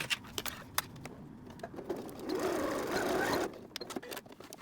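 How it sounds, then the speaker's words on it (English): A sewing machine stitches across the top of a bag strap in a quick rapid-fire run of needle strokes, preceded and followed by light clicks and handling noises. "we're going to sew across the top here so that it is secured to it."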